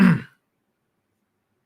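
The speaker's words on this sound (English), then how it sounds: "As I clear my throat." A single short throat clearing, close and brief, followed by silence.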